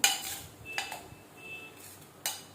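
Tempering stirred into boiled beetroot in a pot with a spoon, a few quiet scrapes and clinks with a sharp knock near the start and another near the end, faint and close with no talk.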